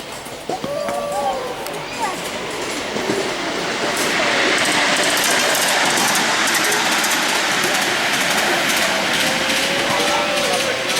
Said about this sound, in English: That's the last train now.